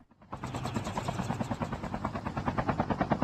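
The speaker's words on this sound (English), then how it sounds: "Back in the helicopter we go" A helicopter in Call of Duty: Mobile battle royale flies steadily, its rotor chopping in a fast regular pulse that stays loud and close throughout the short stretch.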